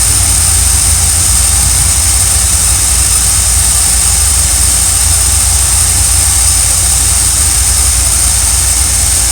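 A motorhome's engine runs in a steady, loud idle, with a deep low rumble and a constant high whine holding unchanged throughout, no voices.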